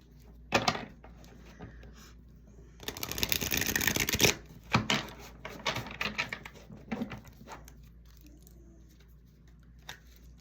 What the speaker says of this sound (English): let me get some additional clarifying cards with the Love Oracle.